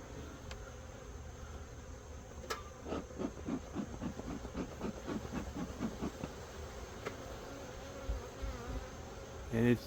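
Bees buzz around an open beehive on an overcast evening while a smoker is in use, giving a steady, faint hum with rapid pulsing bursts of activity throughout.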